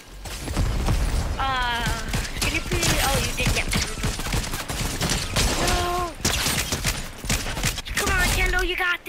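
Shotgun blasts and rapid gunfire in the video game Fortnite, loud repeated shots mixed with game effects while people talk excitedly over the action.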